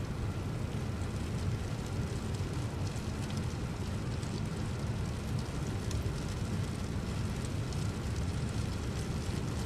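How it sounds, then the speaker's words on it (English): Steady, dense rain in the X-Plane 12 flight simulator, heard from the cockpit of a JAL Airbus A350 as a continuous broadband hiss that stays loud and unbroken throughout, with no talking. "Damn, that rain sound is just"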